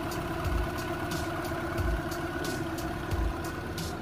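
A car engine idles nearby with a low, steady hum, broken by three soft, evenly spaced thumps, and no voices.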